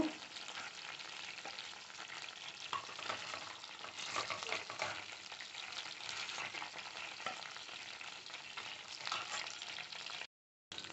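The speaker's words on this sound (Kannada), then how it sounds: "ನೋಡಿ ಫ್ರೈ ಆಗಿದೆ" Chicken pieces for black pepper chicken fry in hot oil with a steady, dense sizzle that runs loud and close throughout, broken by a brief dropout near the end.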